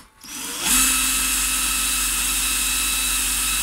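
An electric drill spins up and bores a hole through soft metal on a Singer sewing machine motor part, starting with a quick ramp to a loud, steady high whine that holds without pause.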